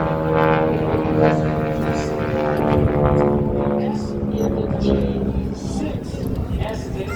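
A North American SNJ propeller airplane performs at an airshow, its engine drone steady and fairly close with a humming, harmonic tone, while an announcer talks over the sound.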